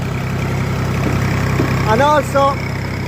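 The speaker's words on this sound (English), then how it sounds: "one hand on the wheel in a non-power steering tractor" Steady low engine drone of a tractor without power steering, rolling a bumpy field, running continuously throughout; a voice speaks briefly near the end over the engine.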